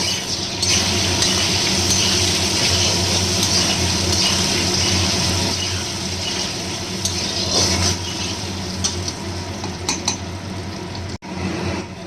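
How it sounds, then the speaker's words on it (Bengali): Potatoes fry in oil in a pan, a loud continuous sizzle with occasional stirring clinks, broken by a brief gap near the end. "এবারে আমি আলুটা ভেজে নেব"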